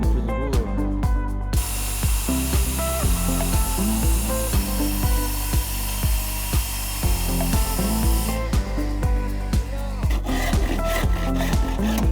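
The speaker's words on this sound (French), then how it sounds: "On y va doucement, on utilise toute la longueur de la scie" A hand saw works through wood for a garden lounge set, using the full length of the blade in long, even strokes that rasp in a steady close rhythm, with other tonal sound running underneath.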